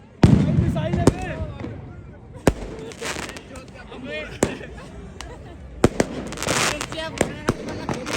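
Firework rockets and firecrackers burst repeatedly during a New Year celebration in Russia, with sharp cracks and booms scattered across the clip, some near and loud, others distant, while people talk excitedly throughout.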